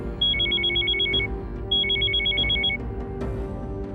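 A telephone rings unanswered in two long bursts of rapid electronic trilling, loud and close, over a steady hum and low rumble of background music.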